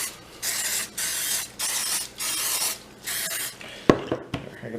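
Cooking spray hissing onto a muffin tin in four or five close, steady bursts of about half a second each, followed by a couple of sharp knocks as the can and tin are handled.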